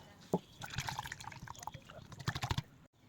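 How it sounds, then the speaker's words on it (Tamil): A cup of water is poured into a pan while cooking a Tamil buttermilk curry with okra, giving irregular splashing and trickling sounds that rise and fall, then stop abruptly near the end. "இப்போ இதில் வந்து நான் ஒரு கப்பு தண்ணி ஊற்றுறேன்."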